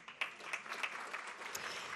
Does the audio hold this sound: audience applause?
yes